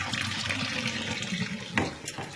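Water from the drainage tube of a WOOWasher Mini portable washing machine pours steadily into a sink, a continuous close splashing rush with a brief surge near the end.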